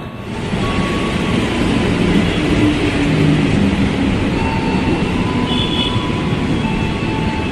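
A KRL commuter train rumbles loudly along the platform at Buaran station, Jakarta, steady rolling noise with faint wheel squeals and metallic screeches drifting over it.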